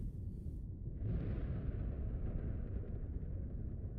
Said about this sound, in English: Also, I hear explosions outside.